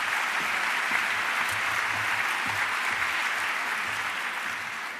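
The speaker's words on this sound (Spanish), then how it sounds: "Un aplauso para ella." A live audience at a Naukas science talk event gives steady, full applause for a speaker, an even wash of clapping that holds at the same level and only eases slightly near the end.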